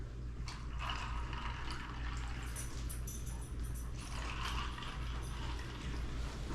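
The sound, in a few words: blender mixing homemade margaritas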